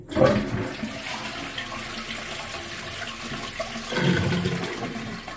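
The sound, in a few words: wall-hung toilet cistern being flushed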